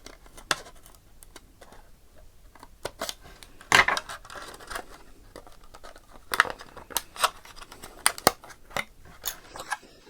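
Scissors snip through a Tamiya Boomerang RC car body shell, trimming it along a line in a string of short, crisp, close cuts that come quicker toward the end, with no talking.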